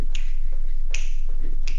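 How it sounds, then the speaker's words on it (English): Three sharp finger snaps land at an even, unhurried pace during a step-touch dance routine, close and crisp against a faint low hum. "you can add a click with that if you want"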